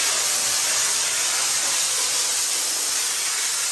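A Chief Steamer steam cleaner, either the 155 psi 240 V or the 125 psi 120 V model, blasts a steady, loud hiss of steam onto a car, holding a constant rushing spray throughout with no pauses.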